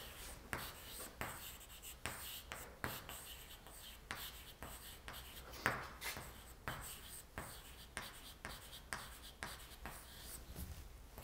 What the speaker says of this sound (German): Ich schreibe es hier auch nochmal hin.